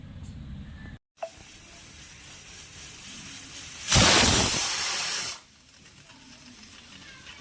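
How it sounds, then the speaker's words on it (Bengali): Pressure cooker hissing steam after cooking rice in a home kitchen, with a loud, steady jet of hiss lasting over a second that cuts off sharply amid quiet room noise. "প্রেসারে ভাতটা বসিয়ে দিয়েছিলাম, যে হয়ে গেছে, এটা বন্ধ করে রেখে দেবো।"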